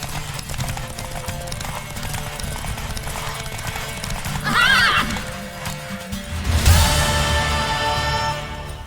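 A horse whinnies sharply over a busy mix of Witcher 3: Wild Hunt game music and effects, with heavy hoof-like thuds building near the end.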